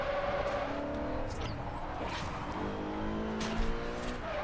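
A Ferrari California engine revs in Forza Horizon, rising and falling through gear shifts with a steady droning tone, close and loud, with faint tire noise underneath.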